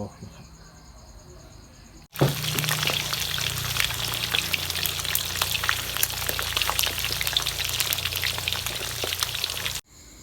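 Silver barb fish frying in hot oil, a loud dense crackling sizzle that bursts in suddenly and keeps going steadily for several seconds before cutting off, close to the pan and with no talking over it.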